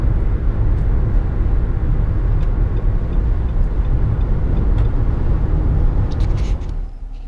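Car driving on a road in Colorado, heard from inside as a loud, steady low rumble of engine and road noise that stays constant and eases off slightly at the very end.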